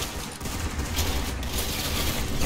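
Dense, continuous gunfire fills the Roblox Arsenal match as a headshot lands, with the shots blurring into a steady rattling wash and no talk.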